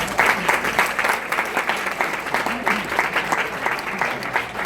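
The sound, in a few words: applause at a wedding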